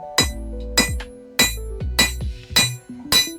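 Hammer striking the eyes of a forged metal snail held half on and half off an anvil, giving six sharp ringing blows at a steady rhythm with clanging metallic decay, close and alone.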